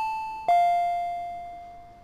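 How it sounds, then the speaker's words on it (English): A two-tone electronic doorbell chime in the Higurashi game, a clear ding followed by a lower dong that rings out and fades over about two seconds. "I heard the doorbell ringing."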